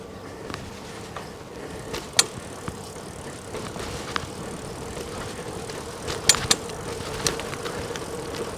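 A Velotric T1ST e-bike without front suspension or fat tires rattles over rough, bumpy trail terrain, giving a steady rumble of rolling tires and wind punctuated by sharp clanks and jolts as it hits bumps.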